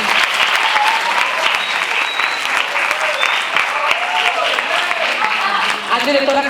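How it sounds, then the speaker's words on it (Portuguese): A seated audience at an opening session of a lecture event in Bahia applauds a director as he is welcomed to the table, with dense, steady clapping that runs loud and continuous throughout and faint voices mixed in. "Palmas, por favor"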